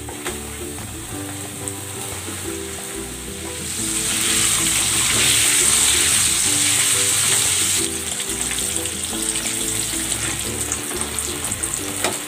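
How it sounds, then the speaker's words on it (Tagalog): Pieces of chicken frying in hot oil give a steady, loud sizzle that swells and brightens after a few seconds, then settles back to a constant crackling hiss, with no voices. "nagpainit na ako ng mantika. Magprito na tayo."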